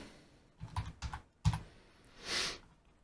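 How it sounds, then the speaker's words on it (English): A few separate keystrokes clack on a computer keyboard in short clusters, then a soft whooshing swell follows. The room is quiet with no talking. "And if I start typing"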